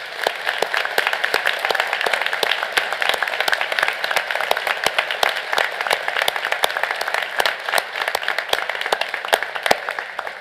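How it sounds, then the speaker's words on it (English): Audience at the Methodist University 2023 graduate commencement ceremony applauding the graduates, a long, even roar of many hands clapping with sharp individual claps poking through, steady for over ten seconds. "Now I ask everyone to join me in applauding this remarkable group of Methodist University graduates."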